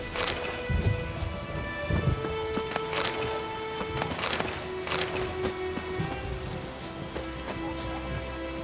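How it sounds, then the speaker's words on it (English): Rain and a thunderstorm in the video game The Witcher 3: steady rainfall hisses throughout, with several deep thunder rumbles rolling in over the downpour and no talk. "The storm, damn it."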